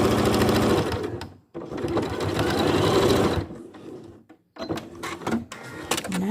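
A sewing machine stitches a seam on a hospital overgown, running in a fast, steady mechanical whir, pausing briefly, then a shorter back-and-forth burst for the backstitch, close and loud with no talk.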